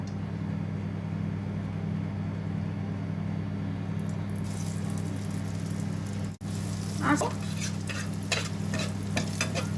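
Prawn balls fry in hot oil in a pan, a continuous close crackling sizzle over a low steady hum, briefly dipping midway before brighter spattering pops pick up toward the end.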